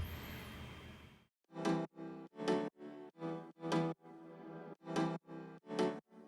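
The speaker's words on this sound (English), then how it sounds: "it's just this American pluck setting with some OTT to boost the high end" Bright plucked synth chords from the American pluck setting of Piano V2, processed with OTT for a boosted top end, hitting in a steady rhythm of sharp, decaying plucks with a brief held chord midway, heard alone.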